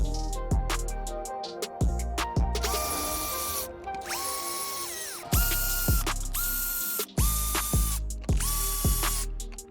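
A ratcheting screwdriver drives screws into a brass diff case for an Axial SCX24 crawler, giving rapid repeated ratchet clicks in bursts separated by short pauses, close and clear with no talk.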